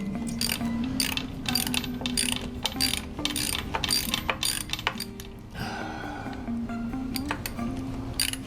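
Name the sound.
9/16 wrench removing starter bolts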